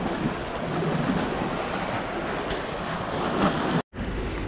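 Sea waves wash onto the shore at Saadiyat beach, a steady broadband rush with wind buffeting the microphone, briefly cutting out near the end.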